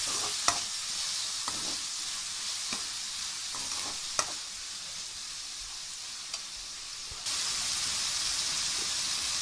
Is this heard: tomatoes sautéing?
yes